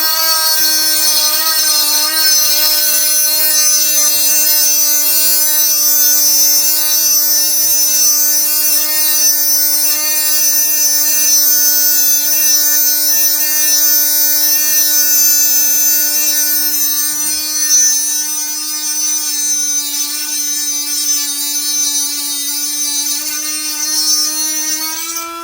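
A Blue Demon Stay Sharp battery-operated tungsten electrode grinder whines steadily and loudly up close, a constant high-pitched motor tone with a faint grinding texture and one brief dip near the end.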